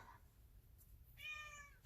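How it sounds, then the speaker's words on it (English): A pet cat meows once, a short harmonic call rising clearly above quiet room tone, close by and indoors, with no talking over it. "there's the cat. I have no idea what she wants today. She's just very vocal."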